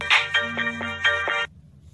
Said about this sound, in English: sorry, my alarm